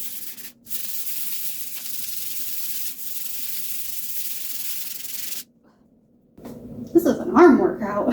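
Steady hissing sander noise on a kitchen countertop runs for several seconds, stops abruptly, then a person's voice follows briefly at the end.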